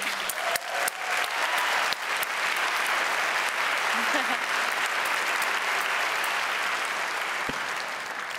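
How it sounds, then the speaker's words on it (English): A crowd at a community TV awards ceremony applauds young nominees, sustained close clapping that swells and stays steady for several seconds, with faint voices mixed underneath. "I think they deserve a round of applause, everyone."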